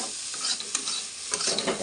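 Poha with raisins fries in a pan while a spoon stirs it, giving a constant bright sizzle broken by quick scraping strokes and light clinks, close up with no voices.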